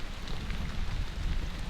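Steady rain falls during a thunderstorm outside a forgotten cabin shelter, a dense, continuous hiss and patter close by with no voices.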